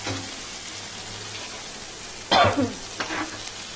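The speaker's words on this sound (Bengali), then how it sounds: "এবারে দেখো চিংড়ি মাছটা হালকা ভেজে রেখেছি, এবার দিয়ে দিলাম এই চিংড়ি মাছটা।" Lightly fried shrimp drop into a simmering spice masala, giving a soft steady sizzle with a sudden louder hiss and splatter as they hit the pan, followed by a brief noise at the end.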